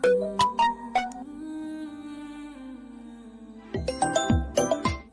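A mobile phone rings for an incoming call, playing a close, melodic ringtone with a sustained tone in the middle and bright chiming notes at the start and end.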